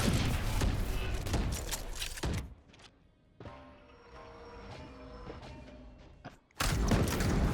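Gunfire in Valorant, a competitive first-person shooter match, with dense bursts of rapid shots at the start and again at the end, and quieter scattered game sounds in between.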